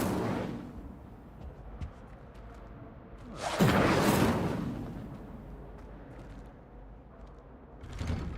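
A fire spell cast in Hogwarts Legacy, a sudden roaring whoosh of flame that swells near the middle and fades, with a smaller burst near the end over quiet ambience.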